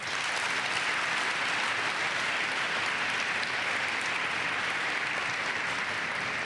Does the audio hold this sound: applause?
yes